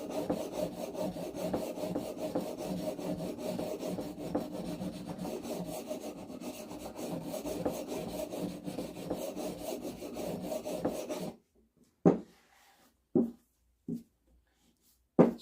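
A chisel is honed on a sharpening stone with steady back-and-forth rubbing and rasping, close and continuous for about eleven seconds, then a few separate short strokes with pauses between them.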